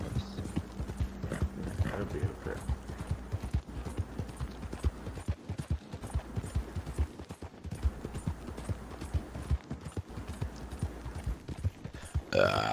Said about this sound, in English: He has one pissed off horse.